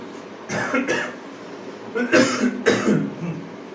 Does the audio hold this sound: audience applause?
no